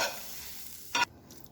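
A spoon spreads a hot paratha layer mixture over a cooked paratha, giving a short scraping, sizzling stir that fades into near silence.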